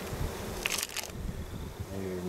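Honeybees buzzing around an open hive being sorted for colony boosting, a steady close hum with brief rustling and handling noises, no talk.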